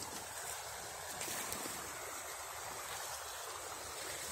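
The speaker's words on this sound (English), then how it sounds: "Do you hear the water flowing?" A woodland stream rushes steadily during light drizzle, a continuous close wash of flowing water with no voices over it.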